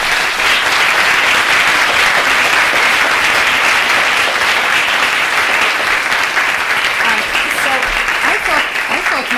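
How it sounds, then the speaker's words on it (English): Loud sustained applause from an audience at an evening conversation event with the UNESCO Director-General, a dense unbroken roar of clapping near the listener, with a few voices calling out faintly toward the end. "That deserves applause."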